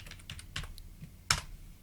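Keys clatter on a computer keyboard in short irregular bursts, close and fairly quiet, with one sharper, louder keystroke near the end and no voices.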